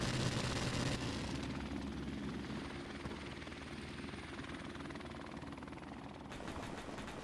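Helicopter rotor and engine in a video game, a loud, steady thumping drone that holds unbroken throughout, with brief sharp bursts like gunfire mixed in near the start.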